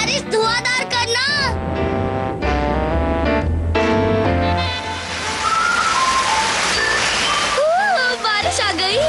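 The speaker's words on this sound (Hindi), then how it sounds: "बारिश आ गई।" Steady rain hiss in a cartoon scene set in the Stone Age, running under music and character voices, with whistle-like melodic lines on top of the broad wash.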